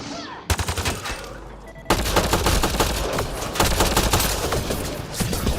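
Rapid, loud gunfire in a Mass Effect: Andromeda firefight, with dense automatic bursts and repeated shots running almost continuously from near the start to the end.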